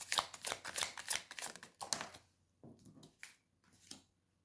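Tarot cards are shuffled by hand, giving quick, soft papery taps and flicks in an irregular run that thins out into a few scattered clicks, faint and close.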